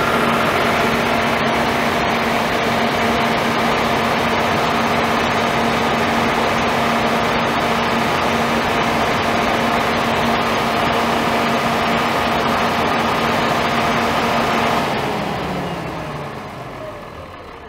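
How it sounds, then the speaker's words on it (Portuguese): A 250 kVA diesel generator engine runs loudly with the microphone right beside it, a steady heavy drone with a strong low hum, then the sound dips and winds down near the end. No one speaks. "naturalmente o ruído está, né, super alto, porque eu estou com o microfone ao lado do motor"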